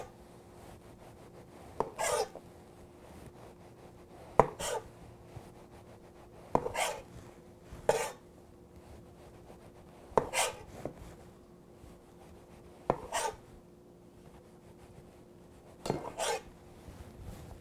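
Skin being peeled from a Hawaiian orange papaya, with short scraping strokes of a blade against the fruit every couple of seconds, close and fairly quiet over a steady low hum, with no talking.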